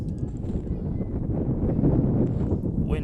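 Wind gusts steadily across an outdoor night lacrosse field during a girls' varsity game, a constant broadband rush buffeting the microphone for several seconds with no talk over it.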